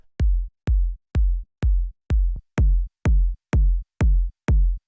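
Layered progressive techno kick drums played dry with no bus glue, ten evenly spaced deep thumps with short clicky attacks and clean gaps of silence between them, loud and isolated.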